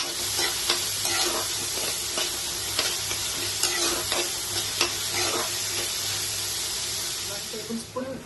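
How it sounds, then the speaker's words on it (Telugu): Onions sprinkled with salt fry in a pan with a steady close sizzle, punctuated by repeated scraping stirs of a utensil against the pan throughout. "ఫాస్ట్గా ఫ్రై అవ్వడానికి కొంచెం సాల్ట్ వేసుకుంటున్నాను."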